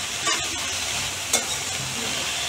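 Greens cooked with jackfruit seeds and kasundi being stirred in a pan, a low steady sizzle broken by a couple of sharp scraping clatters from the spoon.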